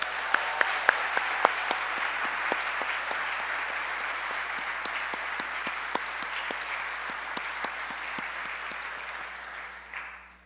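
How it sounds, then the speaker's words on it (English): An audience claps in sustained applause after a Martin Luther King Jr. Day keynote at Bates College. Individual claps stand out crisply over a steady wash that fades at the end. "we all want to give you one more round of applause."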